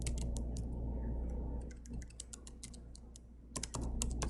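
Keys clatter on a computer keyboard in quick bursts of typing, close and fairly quiet over a low steady hum, pausing briefly mid-way before resuming.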